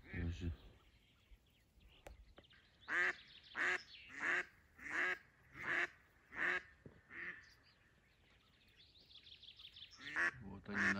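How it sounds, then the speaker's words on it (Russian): Ducks quack in a steady series of loud, evenly spaced calls during a spring duck hunt, likely decoy ducks, about eight bursts in a row near the listener, with quieter quacking before and after. "Вот они начали работать, обе утки."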